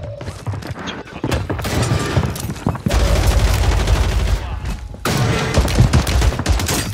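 Warzone 3 gunfire rings out as loud, close bursts of shots and thumps, with a voice talking in between.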